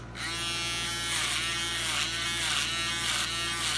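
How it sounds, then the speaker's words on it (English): Foil shaver buzzing steadily and close up during a bald fade haircut, a continuous electric hum that shifts slightly in pitch as it moves across the head, with no talking. "how far are you going up with the foil shaver?"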